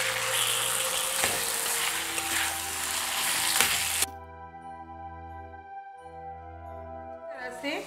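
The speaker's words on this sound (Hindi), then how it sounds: "कोचूर साग को डाल दीजिए। ये अच्छे से मिक्स कीजिए।" Taro stems tipped into a hot pan and stirred, a dense sizzling hiss with spatula scrapes for about four seconds, then a quieter stretch with a steady hum before stirring noise returns.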